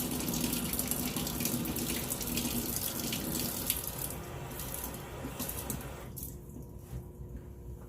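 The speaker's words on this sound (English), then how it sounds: "So I'm going to add some warm water to this." Warm tap water runs steadily from a faucet over a hardened lump of brown sugar in a kitchen, a continuous close splashing hiss that thins out toward the end.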